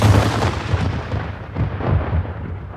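A volley of musket gunfire in a Revolutionary War reenactment at Concord: a run of deep, rumbling booms rolling one into the next, loud and close with no voices.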